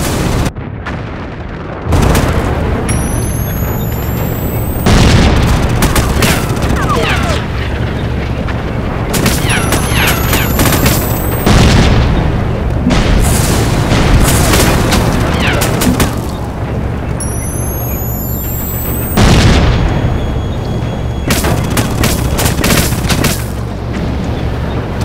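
Heavy booming grenade explosions and gunfire in the Rogue Trooper Redux game, loud blasts recurring every few seconds over a constant battle rumble.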